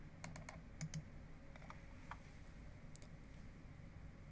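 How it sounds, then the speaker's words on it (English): Computer keyboard typing on a desktop during poster layout work in InDesign CS5.5, as a name and university are entered: soft, scattered keystrokes in short irregular bursts, quiet and close, with no voices. "type my name and university"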